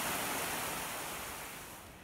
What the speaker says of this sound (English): you can see the creek beginning to cascade over the rock face there